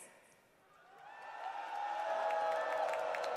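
An esports arena crowd at a Dota 2 International 2023 playoff cheers for the Gaming Gladiators, a dense roar of voices and whoops that swells from moderate to loud and holds steady.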